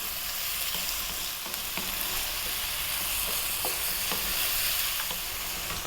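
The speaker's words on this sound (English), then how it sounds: "we're going to stir fry this around for 5 minutes" Seafood and a big pinch of black pepper stir-fried in a pan give a steady, close sizzle and crackle, with scattered clicks and scrapes from stirring throughout.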